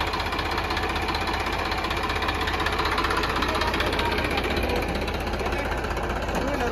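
Tractor engine hauling a full load of sugarcane, running at a steady throbbing idle with a rough knocking vibration throughout, close and continuous.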